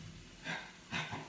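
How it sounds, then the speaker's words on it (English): A dog gives two short, muffled barks about half a second apart, heard from a little distance indoors with faint breathy noise between them. "See, dog's barking every time I do a video."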